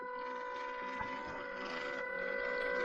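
Small electric motor of a WPL C74 Suzuki Jimny RC crawler running at low speed, a steady whining hum with mechanical gear buzz, close and continuous throughout.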